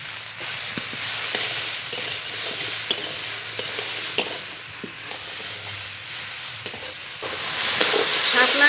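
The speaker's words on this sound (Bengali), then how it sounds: "শাপলা একটু নেড়ে নিয়েছি" Water lily stems frying in a pan with turmeric and salt, a continuous sizzle broken by scattered scraping stirs of a spoon, close and fairly loud throughout.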